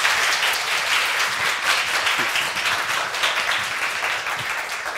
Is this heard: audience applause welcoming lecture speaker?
yes